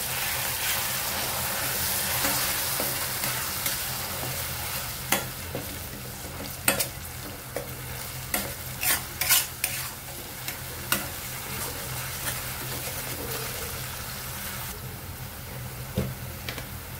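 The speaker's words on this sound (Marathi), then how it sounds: "तांबूस रंगापर्यंत कांदा आपला परतून घेऊया।" Onion sautéing and being stirred in a pan while cooking chole masala, a steady sizzle with scattered scraping clicks from the spoon, close and fairly quiet, no talking.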